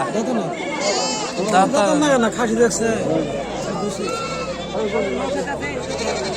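Several goats bleat repeatedly amid a busy crowd at a wholesale goat market in Bakshiganj, Jamalpur, Bangladesh, their wavering cries mixing with nearby people talking.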